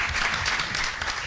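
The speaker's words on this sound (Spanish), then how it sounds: "Un aplauso para el profesor." Brief burst of applause from an audience, steady clapping with no voices on top.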